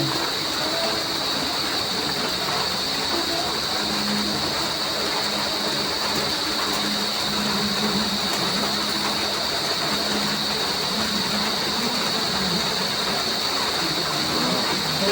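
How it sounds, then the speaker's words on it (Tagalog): Heavy rain pours down steadily around a house in the afternoon, a dense continuous hiss that holds at an even loudness for the whole stretch, with no voices over it. "Papalakas na lang ang buhos ng ulan"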